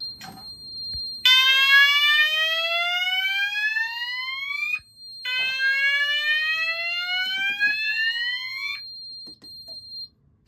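A fire alarm panel sounds its evacuation alarm in two long bursts of loud rising electronic sweeps, briefly pausing between them, with a steady high tone running throughout.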